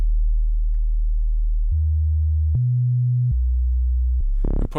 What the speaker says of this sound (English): let's also add a sub, and let's pitch that down by 2. So let's just go and keep it with a sine wave